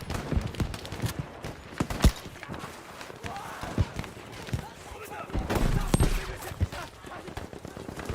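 Gunfire in the video game Battlefield 5, with dense rapid shots and bursts over busy battle noise throughout, near and steady, while a player talks over it at moments.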